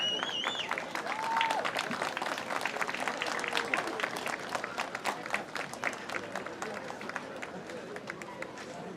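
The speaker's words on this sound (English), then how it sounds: "Let's give a round of applause." Scattered outdoor clapping and crowd applause at the Iwo Jima Flag Raising Parade in Sacaton, Arizona, a steady patter heard at a distance with a brief whistle early on.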